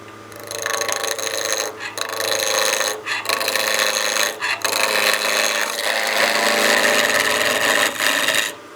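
A wooden bat house ornament being roughed to round on a wood lathe at 1500 to 1800 rpm, producing a loud, continuous rasping scrape broken by a few brief pauses as the tool lifts off.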